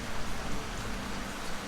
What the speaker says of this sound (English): the rain keeps coming